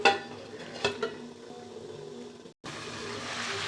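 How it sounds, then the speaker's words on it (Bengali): Mutton cooking with spices in a pot with the lid on, a soft steady sizzle with a few clinks of utensils near the start, a brief pause, then a louder even hiss. "আমি এখন মশলাটা দিয়ে কষায় নিচ্ছি, একটু ঢেকে দিলাম।"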